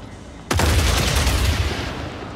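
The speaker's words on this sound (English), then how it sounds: "Incoming fire." Gunfire erupts suddenly in the mech combat game Mech Arena, a loud burst of rapid shots and booming blasts that continues steadily, then slowly fades.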